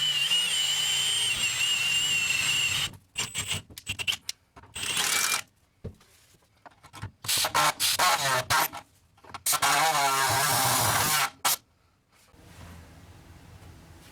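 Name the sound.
air saw cutting car body metal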